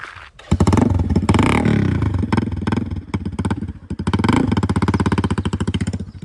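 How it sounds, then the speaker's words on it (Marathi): A small 125cc motorcycle engine idles nearby, then revs loudly several times, its throaty putter pulsing between the revs. "बघू शकता त्या गाडीचा आवाज पण भरपूर आहे"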